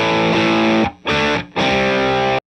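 Electric guitar reamped through a real amplifier with raised gain, heavily distorted and loud, playing sustained crunchy chords that cut off twice for short breaks before ringing out and stopping abruptly.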